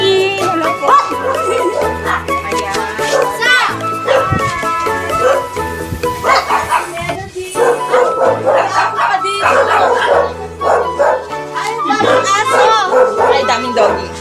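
Several dogs bark and yip close by at a family Mother's Day gathering, their sharp barks repeating over background music while people chatter and children talk.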